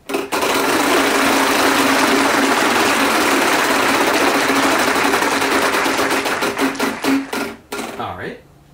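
On a fan-made Wheel of Fortune game night, the prize wheel whirs through a fast blur of clicks. The clicks gradually decelerate into separate ticks and then come to a halt.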